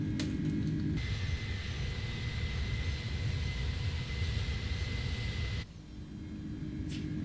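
Steady roar of Airbus A310 jet engines heard in the cabin during a climb in Microsoft Flight Simulator, a continuous loud drone that cuts off abruptly near the end.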